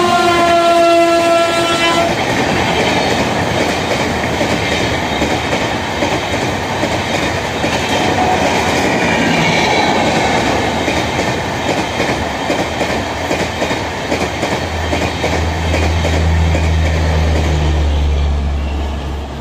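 An express train roars past close by at a railway platform in India, loud rumbling and clattering wheels throughout, with a long horn blast near the end.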